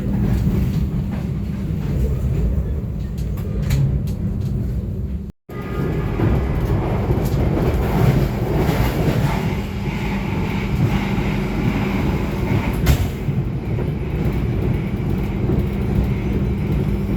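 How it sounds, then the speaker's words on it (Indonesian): An economy-class passenger train runs on the rails toward Tasikmalaya station, a loud, steady rumble of wheels with rattling carriage noise, broken by a brief dropout near the middle, then a sharp clack as the ride continues. "Saat ini kereta yang kita naiki tiba di stasiun Tasikmalaya."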